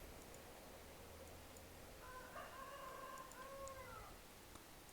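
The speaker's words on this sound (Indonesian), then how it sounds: "itu sudah ada bunyi ayam" A faint rooster crow sound effect, a single drawn-out cock-a-doodle-doo heard thinly over a steady background hiss.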